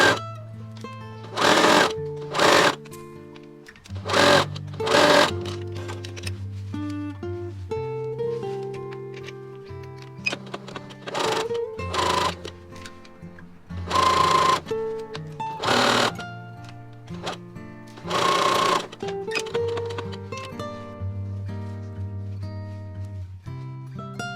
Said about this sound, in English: Sew and press seams open.